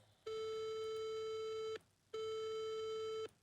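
Telephone tone heard while placing a call: two long, loud, steady beeps, each about a second and a half, separated by a short pause, alone.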